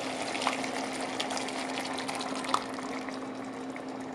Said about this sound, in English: we're going to do 1/2 cup of water, and we're going to mix in some of the coconut milk into this